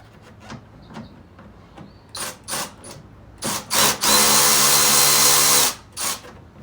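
A power tool loosens a 10 millimeter fastener with a clamp on a 2001 Lexus RX 300 during a transmission swap: several short whirring bursts, then one long steady run of about two seconds, close and loud.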